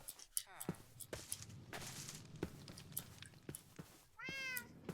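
Short meows from a cat in the video game Minecraft, a few brief calls scattered among soft game footsteps and clicks, with a clearer rising meow near the end.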